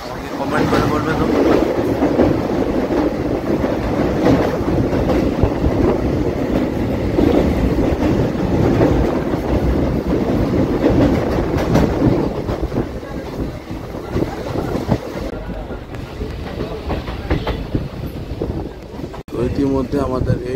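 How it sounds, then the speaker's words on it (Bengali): A local passenger train rolls into Belonia station in Tripura, loud sustained rumble and wheel clatter filling the whole stretch, easing slightly near the end as it slows, with a voice heard over the noise. "ইতিমধ্যে আমাদের এই ট্রেন 8 নম্বর স্টেশন বেলুনিয়াতে এসে জাস্ট এখন অ্যারাইভ করলো।"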